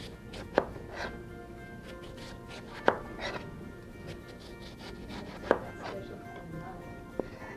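A knife cuts through a honeydew melon on a cutting board in a quiet kitchen, making several sharp, separate chops spaced a few seconds apart, with faint rubbing in between.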